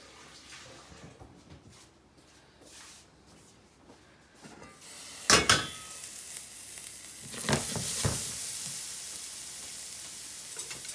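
Leeks cooking down in a pan for a quiche give a soft, steady sizzle, with a few louder stirring or scraping bursts partway through.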